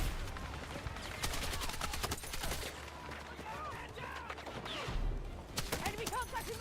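Automatic weapons fire in a multiplayer shooter comes in quick rattling bursts, some loud and near and others quieter. Chirping effects and background game noise sit between the volleys.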